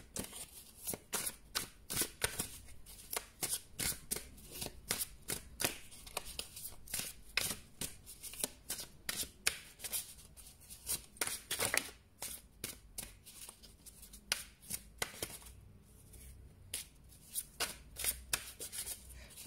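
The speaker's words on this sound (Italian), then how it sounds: "Mescoliamo le carte." Tarot cards are shuffled by hand in quick repeated riffling bursts, crisp papery flicks and slaps coming close and clear in an uneven rhythm for the whole stretch.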